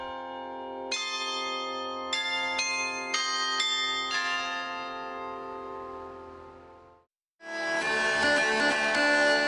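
A self-playing clock carillon chimes a slow mechanical melody of ringing bell tones that sustain and decay, then a brighter, denser burst of bells starts after a brief pause.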